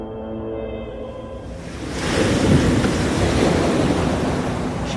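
Ocean waves wash in a steady broadband roar from a Shutter Island film scene, rising louder midway after a softer start with a faint musical tone underneath, no voices present.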